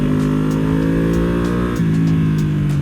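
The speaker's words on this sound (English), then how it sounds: "I'm trying to warm this up just a little bit so I can see if the engine's gonna do a little popping." A Yamaha R1M motorcycle engine is warming up, holding a loud, close, high idle that rises and then drops slightly in pitch partway through, with no talk over it.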